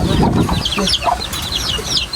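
Pet chickens and chicks being fed and watered cluck and peep close by, a busy mix of low clucks and high chirps overlapping throughout.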